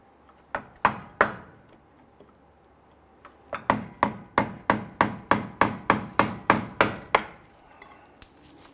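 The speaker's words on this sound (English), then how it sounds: "So I'm going to use my screwdriver, and I just want to get that band off" A screwdriver works a one-time-use metal clamp band off the steering rack bellows of a 2011-2017 Nissan Quest, giving sharp metallic taps and clicks: a few scattered strikes, then a steady run of about a dozen evenly spaced hits, close and alone.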